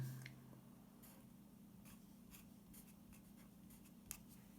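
A pen or marker scratches out an equation in short, quiet strokes during a circuits lecture, each stroke a brief rasp over a steady low room hum, with no talk.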